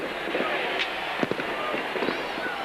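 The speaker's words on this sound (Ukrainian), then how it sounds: "Та ні, салют рано, куди ви стріляєте?" Fireworks set off early at a New Year celebration on Maidan Square in Kyiv, a few sharp pops and crackles breaking over a dense, roaring crowd-and-street wash.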